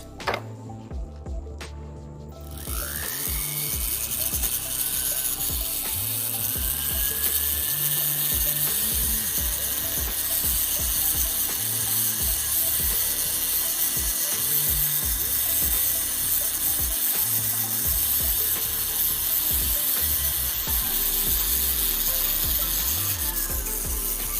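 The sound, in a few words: rotary tool with green rubber polishing wheel on jewelry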